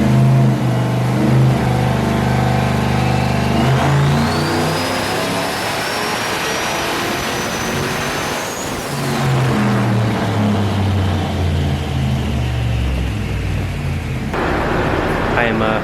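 Turbocharged LS-swapped truck engine accelerating under boost, a loud rising roar with a climbing turbo whine that cuts off sharply, then settles into a lower rumble before building again.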